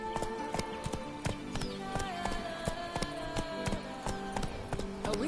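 Hooves of the horse Roach clip-clop in a steady, quick trotting rhythm on hard ground in The Witcher 3, close and clear over faint game ambience and music tones.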